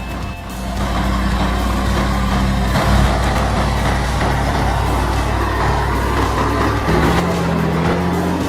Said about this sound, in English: This heavy-duty truck pulls the logs across a majestic waterlogged bridge with such power and grandeur